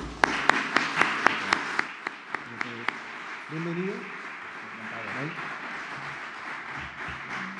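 Applause welcoming chess player Jaime Santos to a talk in Málaga, a few loud sharp claps that quickly thin out and fade, followed by a voice speaking a short greeting.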